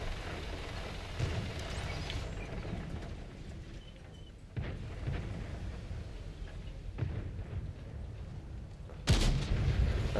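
Tank cannon shots from World of Tanks ring out over a low rumbling battle ambience, with a few sharp blasts spread across the span and the loudest near the end.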